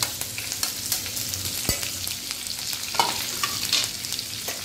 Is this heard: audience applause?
no